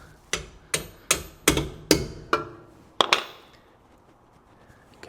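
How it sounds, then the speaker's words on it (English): Hammer blows knocking a bolt out of a car, about eight sharp metallic strikes in an irregular rhythm, close and loud, each ringing briefly before the next. "See if we can hammer this bolt out really quick."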